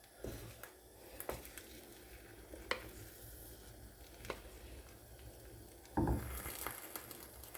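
Eggs and spinach frying in a pan for an omelet, with a soft steady sizzle, occasional utensil scrapes and clicks, and a louder burst of frying near the end.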